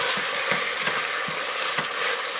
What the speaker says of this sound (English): Just give that a little bit of time to fry up that garlic a bit.